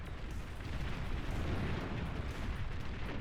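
A Banisher shot lands and explodes in Beyond All Reason during a 1v1 battle on Boreal Falls, a dense, continuous rumbling boom that holds at a steady loud level for a few seconds with no talk over it.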